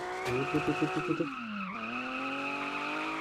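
Tires screech in a long sustained squeal as a car drifts in Car For Sale Simulator, engine whine rising and falling, with a brief choppy burst of noise near the start.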